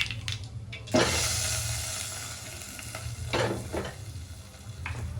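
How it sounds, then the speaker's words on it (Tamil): Hot mustard-seed tempering with asafoetida is poured into millet batter, giving a sharp sizzling burst followed by wet stirring and scraping that comes and goes, moderately quiet and close. "கடுகு வெடிச்சிருச்சு, நம்ம இந்த மாவில் கொட்டிடலாம்"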